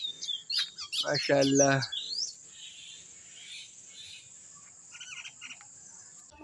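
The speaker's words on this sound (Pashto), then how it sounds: "دي ټولې مرغۍ راځي" Birds chirp outdoors in quick, bright bursts near the start while a voice speaks briefly, then fainter, more distant calls continue over a quiet background.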